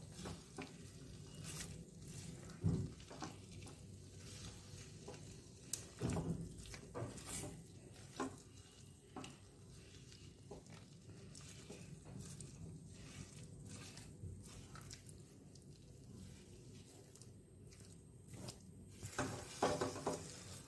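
Egg korma stirred and mixed in a pan, a spoon scraping and clattering in irregular bursts over a faint continuous sizzle, with louder knocks now and then, close by and without talk.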